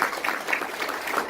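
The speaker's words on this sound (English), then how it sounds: "It's good to hear a clap" An audience in a workplace motivational talk claps together, a dense, even patter of hand claps sustained for just over a second with no speech.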